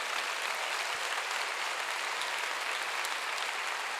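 Loud, sustained applause from a church congregation during a sermon, a steady dense wash of clapping with no break.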